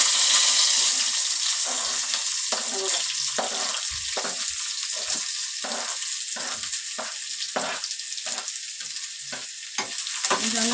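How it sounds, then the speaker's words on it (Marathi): Onion and curry leaves frying in oil in a pan, a steady close sizzle with a hissing wash throughout, broken by repeated rhythmic scraping strokes of a spatula stirring; no voices. "कांदा भाजून घ्यायचा पहिला कांदा आणि कढीपत्ता टाकते"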